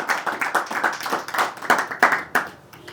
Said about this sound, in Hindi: आप तालियां बजाइए बिल्कुल